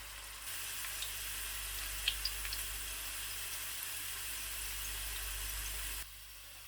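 Sliced onions for chicken pulao sizzle steadily in hot oil as they fry light brown, a quiet, even hiss that cuts off abruptly near the end, with no talking.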